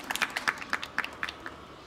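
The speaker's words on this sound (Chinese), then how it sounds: "掌声欢迎他们" Sparse applause from a small audience welcoming a student team at a spring ox press event in Taiwan: about eight separate, faint hand claps spaced unevenly, with no one talking.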